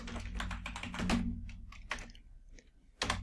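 Fingers typing a search term on a computer keyboard, a quick run of close, light key clicks in short bursts with brief pauses between.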